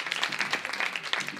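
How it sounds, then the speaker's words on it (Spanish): Studio audience applauding on a Spanish YouTuber game show, dense quick clapping at moderate loudness that pulses evenly throughout, with no voices on top. "aplaudid más fuerte a los hackers"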